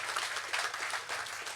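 A festival crowd claps in a brief, moderately distant burst of applause, steady, fairly even, and slightly faint, with no talking over it.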